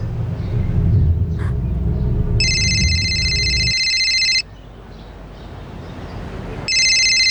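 A telephone rings in two bright electronic bursts separated by a short pause, loud and close. A low rumbling background fades out just before the pause.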